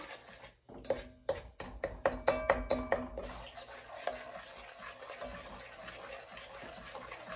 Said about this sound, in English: I'm just dissolving the sugar in here now.